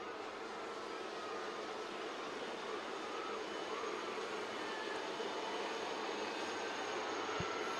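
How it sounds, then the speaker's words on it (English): A formation of Navy Chetak helicopters flies overhead at a Navy Day display in Visakhapatnam. A continuous broad roar of rotors and engines holds steady and loud throughout, with no voices. "Look to the skies on your left where you will see the formation of helicopters approaching"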